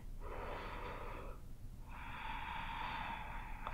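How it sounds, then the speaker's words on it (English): A deep breath taken during a yoga class: a noisy inhale through the nose followed after a brief pause by a longer, slightly wheezy exhale, close to the microphone over a low room hum. "Take one more deep breath."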